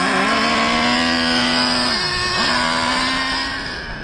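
Traxxas Revo 3.3 nitro RC car engine warming up, a loud continuous buzzing whine with strong harmonics that holds steady, dips briefly and rises again as the throttle is blipped, fading slightly at the end.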